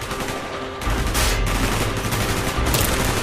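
Dense automatic gunfire from Call of Duty: Black Ops, a loud, continuous barrage of rapid shots that intensifies partway through, with no talking.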